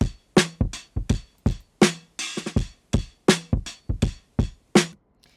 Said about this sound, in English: So I went and grabbed one of my own breaks